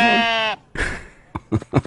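A single sheep bleats loudly as a sound effect on a radio show, a long wavering cry followed by a few short, softer sounds.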